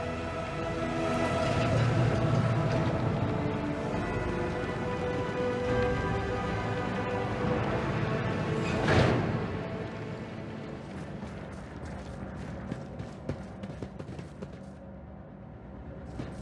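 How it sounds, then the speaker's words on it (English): An elevator in the Warhammer 40k Rogue Trader video game descends with a steady heavy mechanical rumble and rattle, swelling with a whoosh midway, then thinning to faint clanks. "We can use the same elevator that Lady Theodora and Mort headed for earlier."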